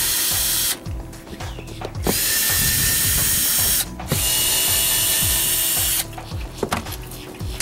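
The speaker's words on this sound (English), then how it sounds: "First thing we're going to do is go ahead and remove all these screws from the trim ring." A cordless drill or driver backs screws out of a boat portlight trim ring, in several loud whirring bursts separated by short pauses with ratcheting clicks and handling noise, close to the microphone.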